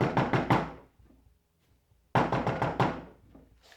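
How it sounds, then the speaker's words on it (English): Knocking on a Foley prop door, two bursts of rapid, close raps separated by a short silent pause, each round of about four to five hard knocks ringing out loudly and alone. "This one is also perfect if someone's knocking."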